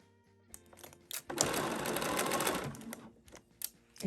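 A sewing machine runs in one sustained burst of stitching across a quilt block, with short start-stop whirs before and after it. The sound is close and steady, and no one speaks.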